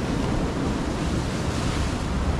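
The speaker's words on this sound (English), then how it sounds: "the ocean is relatively calm" A relatively calm ocean with few strong waves, heard as a continuous even roar of surf from a viewpoint, with wind rushing across the microphone and no voices.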